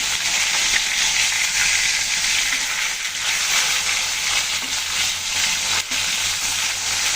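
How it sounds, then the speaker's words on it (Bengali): Pieces of tilapia fry in hot oil with a loud, dense, continuous sizzle that stays close and steady throughout, with no talking. "তিন পিস মাছ আগে ভেজে নেবো, তারপর দুই পিস ভেজে নেব"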